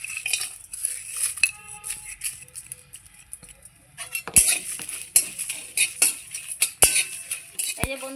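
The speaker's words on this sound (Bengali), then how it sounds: "এগুলো আমি সব শুকনো খোলায় ভেজে নেব।" Whole spices and torn bay leaves dry-roasted in a hot pan for a fish-head muri ghonto, with soft scraping and clinks of a metal spoon against the pan and a few sharp knocks, fairly close and without talk.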